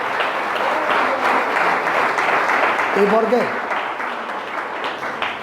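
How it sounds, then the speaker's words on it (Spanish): Church congregation applauding at a Spanish-language sermon, a steady broad wash of clapping that continues while someone speaks over it. "Denle un aplauso a Jesucristo"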